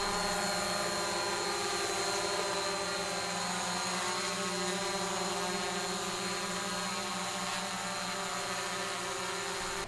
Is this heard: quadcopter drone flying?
yes